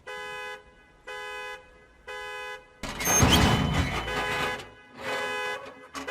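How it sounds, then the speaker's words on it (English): A car alarm sounds in repeated evenly spaced electronic tone bursts, loud and harsh, broken midway by a noisy clattering burst before the pulsing resumes. "he annoys Jason by triggering his car alarm"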